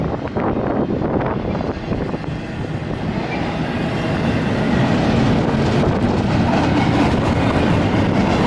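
A BNSF freight train hauling refrigerated cars rolls past at close range, a steady loud rumble with wheel clatter and some wind buffeting on the microphone throughout.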